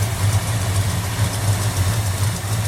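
A 1979 Dodge Magnum engine running on a standby carburetor idles steadily with a loud, even low rumble that stays close and constant throughout.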